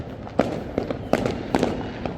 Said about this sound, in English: the reason why there are a lot of fireworks is because it is actually midnight